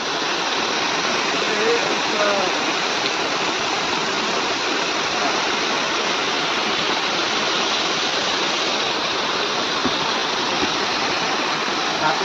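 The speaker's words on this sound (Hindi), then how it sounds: "ये पानी बहुत बहता है" A village waterfall pours with a dense, constant rush of flowing water, heard loud and close. The roar stays steady throughout, with no breaks.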